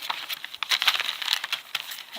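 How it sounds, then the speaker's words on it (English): Packaging paper is handled and crinkled for a collage in a travel sketchbook, close and fairly quiet, with a quick irregular series of rustles and crackles. "This is a piece of paper just from packaging."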